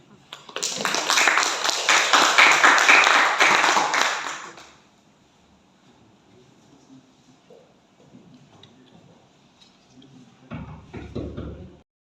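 A classroom of students claps for a presenting group, a loud burst of dense applause for about four seconds that fades out, followed by quieter room sounds and a few knocks.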